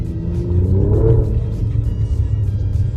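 An Alfa Romeo Giulia QV Verde with 525 brake horsepower rumbling from inside the cabin, a deep, steady low engine drone with a slight swell of revs near the start.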